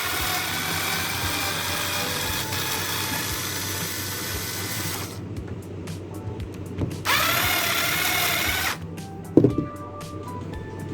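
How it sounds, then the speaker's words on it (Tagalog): A motorized screwdriver unscrews the cover of a pump pressure switch, whirring loudly in two sustained bursts with quieter clicks and handling noises between and after them. "now I can use my motorized screwdriver"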